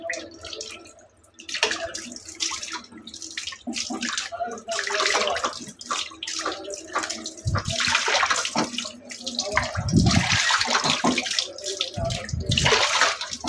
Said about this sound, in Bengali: মাংসটা কাটা হয়ে গেছে, আমি ধুয়ে নিতেছি